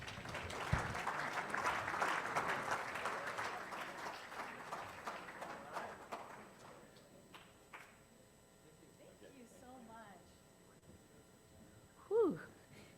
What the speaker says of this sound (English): You guys can applaud while we're doing that.